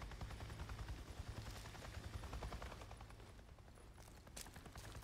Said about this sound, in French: Il y a un hélico.